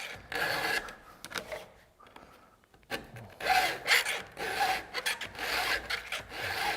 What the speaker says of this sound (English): Now on the backstroke, I'm not filing. I'm just taking the pressure off and moving it forward a little bit.